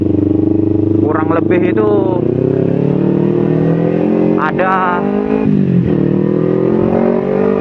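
A used Kawasaki Ninja 250 motorcycle runs with a steady, close engine drone while someone talks over it throughout.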